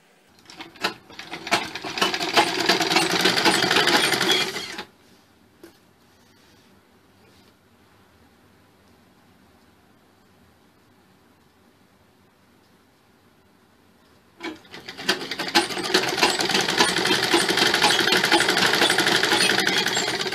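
A sewing machine stitching thick piping onto a Chinese-collar sherwani: a dense, rapid mechanical whirr running for several seconds, a quiet pause with faint handling, then another long close burst of stitching.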